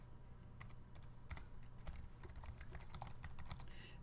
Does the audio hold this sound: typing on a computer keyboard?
yes